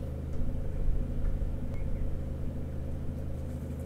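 Car engine rumble from a video game, a quiet steady low drone with no talking.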